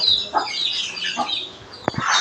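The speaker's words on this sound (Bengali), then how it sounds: "এটা হচ্ছে আমার দেশি মুরগির বাচ্চাগুলো" Native desi chicken chicks cheep and peep in high, thin calls, with a couple of louder clucks and a brief rustle nearby.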